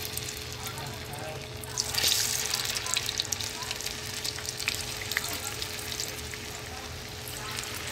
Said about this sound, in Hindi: इसी तरह सारी हम डाल देंगे पकौड़ी तेल में।